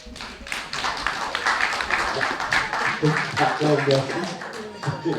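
A church conference congregation breaks into uneven, scattered clapping, loud and close, with voices rising and talking over it in the latter half.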